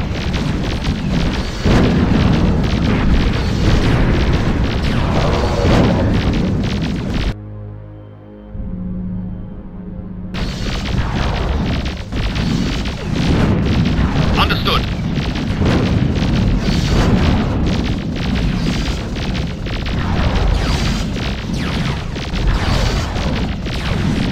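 A base blown apart during a space battle in the strategy game Nexus: The Jupiter Incident, heard as loud, sustained booming blasts and rumbling crashes with a short near-silent gap partway through and speech mixed in.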